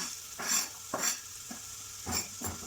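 Garlic and onions hitting heated oil in a pan, producing a faint, steady sizzle broken by several short scraping stirs at close range.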